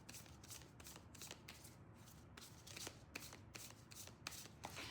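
A deck of tarot cards is shuffled by hand in quick, repeated riffling bursts, faint and close, with short pauses between each pass.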